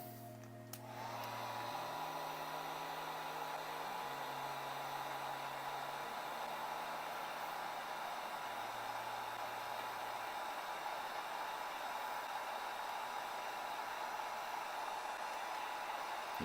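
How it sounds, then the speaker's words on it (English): A heat gun on a low setting warms the plastic of an action figure so a limb can be refitted, giving a steady, even blowing hiss that runs for the whole stretch after it switches on, with a faint low hum underneath. "Remember, low temperature when you use the heat gun."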